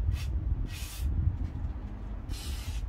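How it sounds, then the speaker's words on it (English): Three short bursts of WD-40 aerosol spray hiss onto the hardened rubber inlet hoses of a barn-find Kawasaki GPZ900R motorcycle, close and crisp over a low rumbling background, with gaps between each squirt. "I'm going to spray a bit of WD-40 on the"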